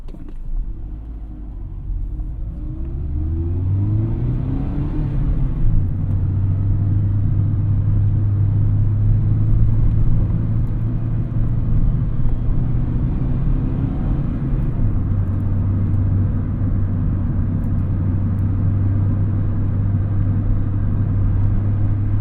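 A Mazda Miata ND1 drives along with its engine running, a steady low droning hum that climbs in pitch through two gear shifts and then holds, heard from inside the car with no talk.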